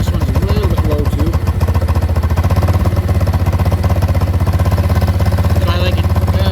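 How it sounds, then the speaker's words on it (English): A motorcycle with a stalling problem runs at a low idle close by, a steady rapid engine pulse with mechanical clatter, while someone talks over it. "This one should start up. And the idle on this one's a little bit low too."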